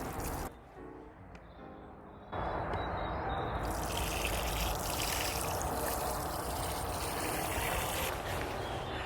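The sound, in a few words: watering potato plants in containers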